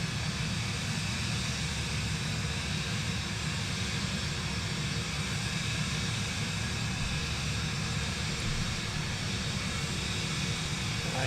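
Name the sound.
airplane engine noise in Microsoft Flight Simulator 2024 video game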